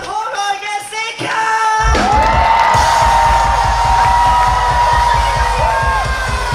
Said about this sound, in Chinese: 给你掌声，有请一位美丽动人可爱的 Sika。